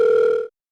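A telephone ring tone plays while a call is placed to a hospital doctor. It is a steady, loud electronic tone that holds for about half a second, then cuts off abruptly into silence.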